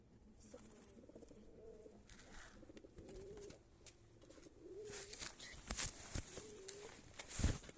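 Pigeons coo in a coop, with repeated low throaty calls at moderate distance and rustling and handling noises growing louder toward the end.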